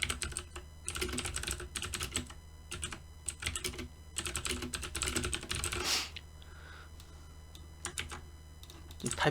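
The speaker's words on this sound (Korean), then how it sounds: "타이핑 소리" Fast, steady typing on a computer keyboard, loud and close, with irregular bursts of clicks running almost the whole way through and a short pause near the middle.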